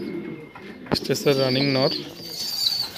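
Fancy pigeons coo in a burst of rolling, throaty calls near the middle, set against someone talking and faint background bird chatter.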